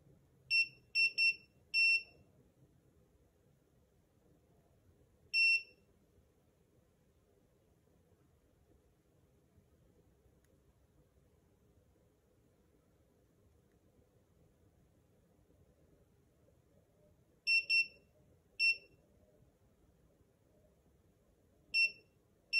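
A SARCTRAC Mk2 3D sensor emits short, high electronic beeps during factory calibration, first in a quick cluster, then isolated beeps and pairs separated by long quiet stretches over a faint low hum.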